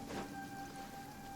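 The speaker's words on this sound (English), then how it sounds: "it just started raining out of nowhere" Rain in the video game Genshin Impact on PS4 hisses as an even, steady wash, faint and continuous, with no voices over it.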